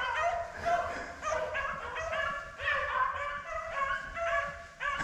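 A pack of hunting dogs on a rabbit trail yelps and bays in rapid, overlapping bursts at a moderate distance, high-pitched and urgent.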